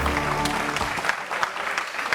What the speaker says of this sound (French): Faut t'applaudir pour grand-père, s'il vous plaît.